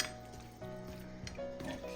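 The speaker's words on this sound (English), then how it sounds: "Just going to mix this in." Seasoning being mixed into steak pieces in a bowl, faint clinks and ringing taps of a utensil against the dish with soft wet stirring, quiet and close.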